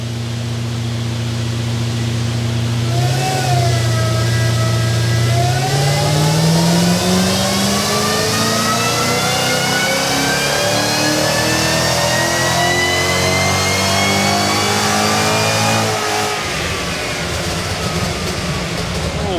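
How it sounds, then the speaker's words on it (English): Supercharged Ford Barra six-cylinder running on ethanol fuel, revving hard on a chassis dyno at a Ford performance dyno day; loud continuous engine roar climbing steadily in pitch over about twelve seconds with supercharger whine, then dropping off abruptly. "Listen to that supercharger."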